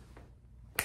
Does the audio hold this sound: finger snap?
yes